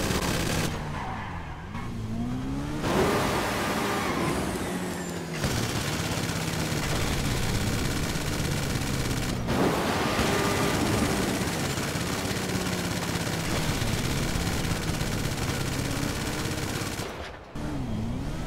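A Pegassi Oppressor motorbike in GTA 5 drones loud and close with a steady engine whine that rises and falls as it moves, mixed with skidding and bursts of rapid gunfire, and no voices.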